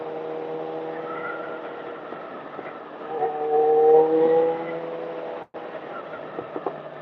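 A motorcycle engine drones steadily and then swells louder as it revs, with a hollow tone reverberating off nearby walls, heard through a muffled, band-limited recording.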